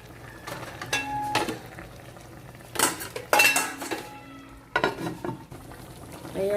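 Bitter gourd stirred in a pan of milkfish with black beans, a spatula or spoon scraping and clanking against the cookware in irregular bursts, close and fairly loud over a faint background hum.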